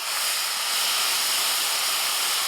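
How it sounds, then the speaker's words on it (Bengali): Water hits hot oil in a kadai holding fried dried red chillies and panch phoron, giving a loud, steady, close steam hiss that runs unbroken for about two and a half seconds with no voices. "ফোড়নটা ভেজে জল দিয়ে দিচ্ছি"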